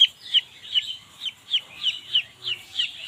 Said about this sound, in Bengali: এটাও লাইট ব্রাহ্মা মুরগি বাচ্চা